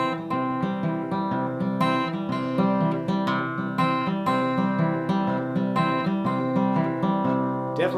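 Acoustic guitar fingerpicking in a swung Piedmont blues rhythm, steady alternating bass notes under bright melodic plucks, played alone and clear for several bars.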